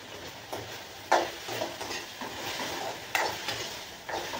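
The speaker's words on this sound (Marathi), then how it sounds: "तर बघा इकडे छान आपल्या भाजीसाठी बटाटा पण चांगला असा परतलेला आहे" Potatoes frying in a pan for an aloo matar curry, with a quiet steady sizzle and occasional scrapes and clinks as a utensil stirs them.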